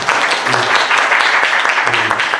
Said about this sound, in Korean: 김호 의사님께 다시 한번 큰 박수 부탁드리겠습니다.